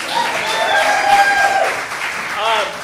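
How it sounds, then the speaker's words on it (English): An improv-show audience applauds four student performers, a short burst of clapping mixed with excited cheers and calls rising near the end. "Give a round of applause."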